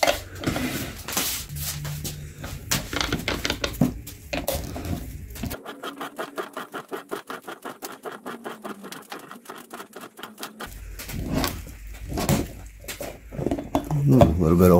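A used Wix 51334 oil filter is cut open, giving about five seconds of rapid, rhythmic mechanical clicking in the middle, with louder metallic clatter and handling noise before and after.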